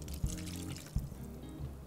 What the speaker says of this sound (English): So I am going to add the other half of this water.